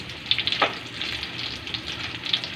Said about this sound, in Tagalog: Fried fish bangus.